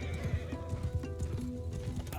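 Horses gallop in the medieval video game Bannerlord, with quick repeated hoofbeats thudding close by and a horse neighing amid the din of a mounted skirmish.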